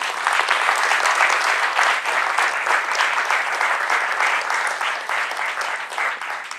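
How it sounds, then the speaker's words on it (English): An indoor audience gives the sponsors a sustained round of applause, dense and even clapping that carries on for several seconds before tapering slightly, with no voices standing out. "So, round of applause for the sponsors"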